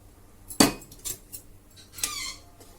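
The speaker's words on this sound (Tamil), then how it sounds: "அந்த கரைச்சி வச்சு புளிச்சு வச்ச மாவை நம்ம ஊற்றி கிண்ட வேண்டியது தான்" A metal spoon clinks and scrapes against a cooking pot a few times while stirring fermented ragi batter in boiling water, with sharp knocks separated by quiet pauses.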